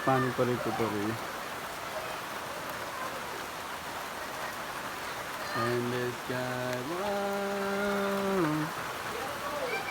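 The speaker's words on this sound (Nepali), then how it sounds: "नन स्टप पानी परेको" Heavy rain falls non-stop outside, a steady hiss of rain on surfaces heard from indoors, with brief voices talking over it near the start and again later.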